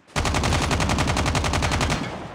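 A rapid burst of automatic gunfire in COD Mobile, roughly a dozen close, loud, evenly spaced shots that tail off slightly at the end.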